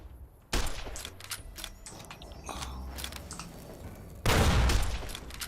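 Bursts of rapid gunfire from a shooter video game, starting abruptly with scattered shots and returning as a louder, denser volley near the end, with no talking.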